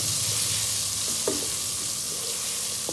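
Potato and eggplant pieces with turmeric sizzle steadily in hot oil while being stirred, a continuous hiss with a few soft scraping knocks from the stirring.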